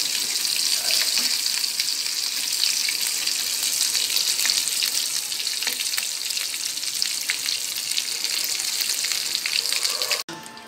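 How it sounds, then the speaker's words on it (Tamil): Eggs sizzle steadily in a hot pan while being fried on both sides for a chilli egg masala, a loud continuous crackle that cuts off abruptly near the end. "இப்போ முட்டை நல்லா 2 சைடும் பொரிஞ்சிச்சு."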